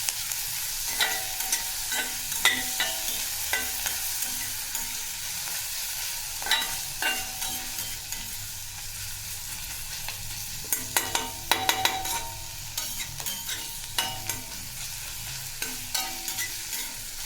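Finely chopped green chillies sautéed in a pan for a dry spinach bhaji, a steady sizzle broken by repeated spatula scrapes and stirring clatter, close and continuous, with no talking.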